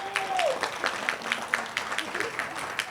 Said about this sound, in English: They deserve an incredible round of applause.